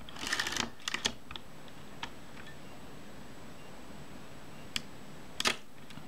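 Shutter of a Kodak Retina 1a camera during release adjustment: a cluster of small mechanical clicks and ticks, then isolated sharp snaps with quiet gaps, close and faint over a steady background hum.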